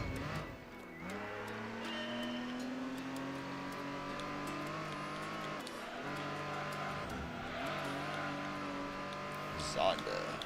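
Pagani Zonda prototype race car in Gran Turismo 3, its engine droning steadily with shifting pitch and gear changes throughout, a brief sharp spike near the end; a person talks over it.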